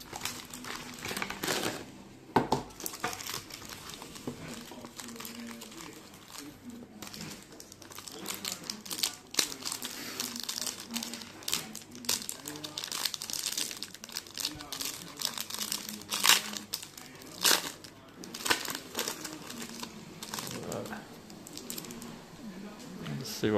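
NRL Traders trading card packs from a priority box being ripped open and handled, a long run of crinkling foil, tearing wrappers and card-shuffling clicks up close, with a person speaking intermittently over it.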